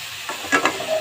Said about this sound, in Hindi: अच्छा, देखें ये हल्के से फ्राई हो गई हैं।